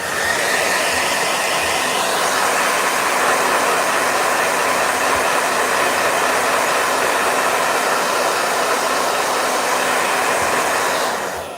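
A blow dryer dries a watercolor painting, giving a steady, loud, continuous whooshing roar that runs unbroken for the whole stretch with no talking.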